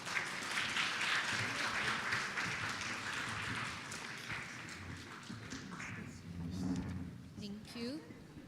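An audience at an ethics bowl competition claps in a dense, fairly loud burst of applause that gradually fades over several seconds, ending with a few scattered claps and faint background sounds.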